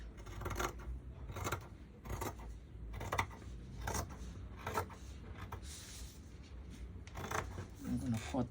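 Scissors snip through skirt fabric in repeated short cuts at close range, with a steady rhythm of blade strokes and soft rustling of cloth, while a voice talks intermittently.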